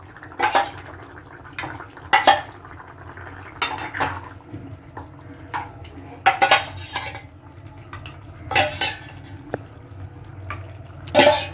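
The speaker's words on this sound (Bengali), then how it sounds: "আমি এবারে এক এক করে ডিমগুলো ছেড়ে দেবো।" Boiled eggs slipped one at a time into an egg and capsicum curry, with spaced clinks of a spoon against the pan and a soft simmer in between, no talking.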